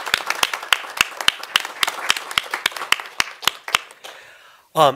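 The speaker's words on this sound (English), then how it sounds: "join me in a round of applause to thank everyone who brought this together" Claps ring out from a panel event audience in a steady, fairly sparse rhythm, each one crisp and distinct, then fade out before a brief voice cuts in at the end.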